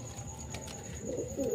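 Giribaz pigeons cooing softly in a short burst, a low murmuring coo close by against quiet background hiss.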